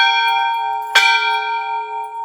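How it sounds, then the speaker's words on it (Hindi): A large temple bell at a mountain kuldevta shrine (Ghandiyal Devta) is struck once, with a loud metallic clang over a long, steady ringing hum that sustains and slowly fades. "सबसे पहले हम ये घंटा बजा के फिर अंदर चलेंगे"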